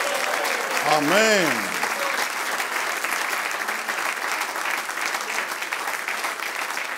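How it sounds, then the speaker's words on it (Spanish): Church congregation at a Sunday service applauding, a steady wash of clapping throughout, with a voice briefly speaking over the start. "Le mandamos un saludo y un aplauso"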